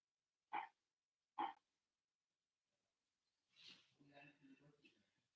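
A pet dog at a door gives two short, sharp barks about a second apart in an otherwise quiet room, followed later by soft talking.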